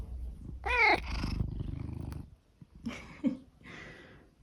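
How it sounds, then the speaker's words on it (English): A pet cat named Peanut purrs close up, a soft rhythmic rumble broken by a couple of brief chirpy vocal sounds. "she is purring right now"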